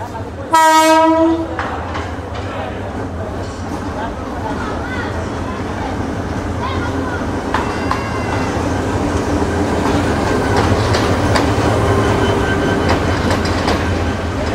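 The Mohua Commuter passenger train at Mohanganj railway station sounds a loud, close horn blast near the start, then its rumble and wheel clatter build steadily as it rolls by.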